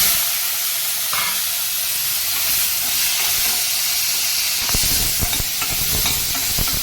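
Tomato pieces dropped into hot oil with chilli and spices fry with a loud, dense, steady sizzle throughout, with occasional scraping and stirring knocks near the end.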